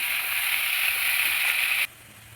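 Sliced onions sauté in hot oil, giving a steady, close hiss of sizzling that runs evenly for about two seconds and then cuts off abruptly to near quiet.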